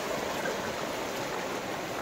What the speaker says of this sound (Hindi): पाइपों में से पानी आ रहा है